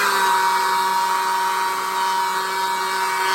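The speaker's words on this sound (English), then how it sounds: "it's good to have a hair dryer handy. And I'm going to turn this on" A hair dryer runs steadily and loudly throughout, a constant whirring drone with a high whine and no pauses.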